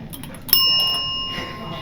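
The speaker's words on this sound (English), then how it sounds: "Ring the bell." An old shop bell struck once, giving a bright metallic ding that rings on with a clear, slowly fading tone, with faint voices and room noise around it.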